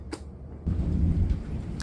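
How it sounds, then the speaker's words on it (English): Low thunder from a passing squall rumbles in after a brief quiet moment and rolls on, close and fairly loud, with a faint patter of rain over it. "A squall rolled through. It hit at least 38 knots of wind. And the lightning is still going"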